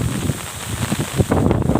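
Strong storm wind buffets the microphone during a tropical storm in Thailand, a steady low roaring rumble that swells louder near the end, with no voices.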